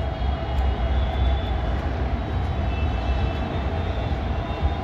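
Rapid Metro train in Gurgaon drawing into the station, heard from the platform as a steady, loud low rumble and hum of the approaching cars, continuous throughout with no talk.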